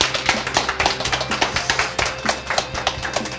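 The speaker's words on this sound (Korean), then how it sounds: "곽재식 작가님께 박수 한번 부탁드리겠습니다" Audience applause for a lecturer at the close of a talk on intangible cultural heritage, a steady patter of many hands clapping at moderate volume with no voices over it.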